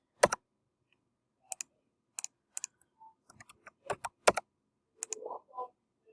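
Keystrokes on a computer keyboard as a short word is typed, scattered sharp clicks in small bursts with pauses between, close and clear with no talking.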